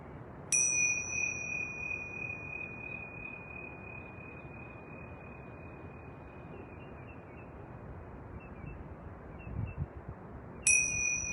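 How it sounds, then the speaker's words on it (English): Two bright bell strikes ring out on a rooftop, one near the start and another near the end, with a long tone fading slowly over steady distant city rumble. "I'm going to ring those bells"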